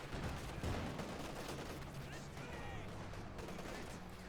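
Anti-tank weapon rounds and field gun fire boom and crackle in a Company of Heroes 2 battle between OKW and Soviet forces, faint and dense under a layered wash of distant gunfire.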